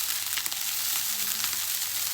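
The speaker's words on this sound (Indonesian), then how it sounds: "Masak sego goreng." Javanese fried rice made with cassava (gaplek) frying in a pan, giving a steady, bright hiss of sizzling oil with occasional soft scraping and stirring sounds close by.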